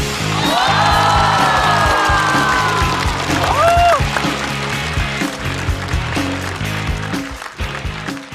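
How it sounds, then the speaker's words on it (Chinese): A studio audience at a comedy roast show claps and cheers loudly, with rising whoops over steady applause that gradually thins out. "掌声欢迎"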